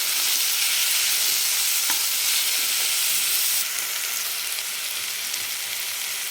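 Onion and tomato for egg chutney fry and sizzle steadily in a pan while being stirred, a continuous hissing with a few soft scrapes, the sizzle easing slightly partway through, with no talking.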